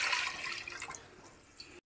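A bowl of water is poured into a pressure cooker, a rushing splash that is strongest at first, trails off into a thinner trickle and then stops abruptly.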